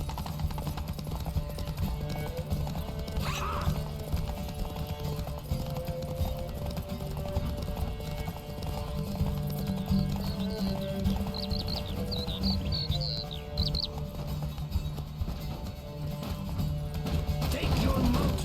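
A horse gallops in The Witcher 3: Hearts of Stone, its rhythmic clip-clop hoofbeats steady and fairly close for most of the stretch, with an occasional whinny, game ambience and a voice talking over it at times.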